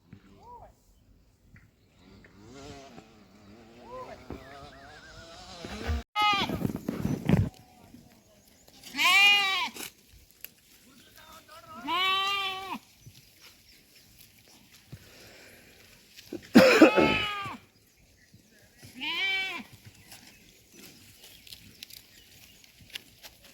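A flock of sheep being herded, with repeated bleats from several animals at varying distances, some loud and close, over a quiet outdoor background with a person calling.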